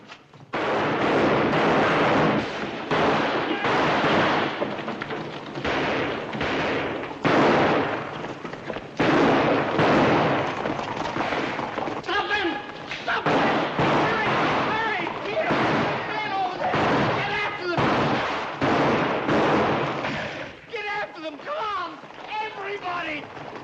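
Rapid gunshots blast down a street in a 1939 American western film, a dense, sustained volley of loud cracks and bangs layered over shouting voices and commotion throughout.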